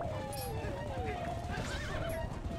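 A horse in a video game whinnies in a long wavering call, then again near the end, over clip-clopping hooves and continuous game noise while a person talks throughout.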